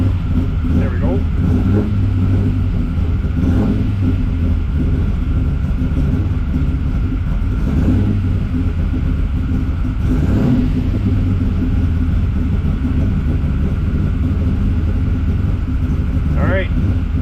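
An engine fitted with a solid roller cam idles steadily, a loud, continuous low rumble that runs unbroken, with voices heard now and then over it.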